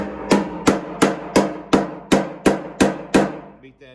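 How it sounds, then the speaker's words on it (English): Nine sharp, evenly spaced body hammer strikes ring out on the metal of a 1932 Ford Brookville roadster, each with a short metallic decay, close and loud. "Just took a body hammer"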